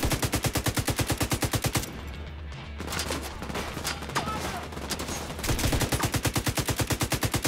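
Gunfire in The Division 2, with rapid, evenly spaced automatic shots hammering loudly at the start and end and a muffled, rumbling stretch of distant fire in between.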